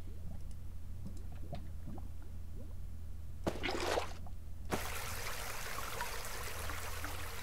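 Water in the Minecraft modpack Modern Skyblock 3 gives a soft trickling, flowing wash, then swells into a steady broadband rush that continues to the end, under a faint low hum.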